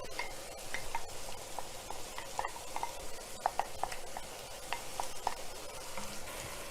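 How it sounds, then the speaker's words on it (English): About a cup of corn stirred into turkey chili in a pot, a soft steady sizzle under repeated light clinks and scrapes of a spoon against the pan, no talking. "So I'm gonna add my corn"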